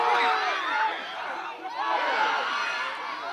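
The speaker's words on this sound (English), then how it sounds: "The crowd goes wild." Crowd at a charity football match for World Down Syndrome Day, Everton in the Community, cheers a goal: steady broad roar of many voices swelling and dipping, close and loud, with no single voice standing out.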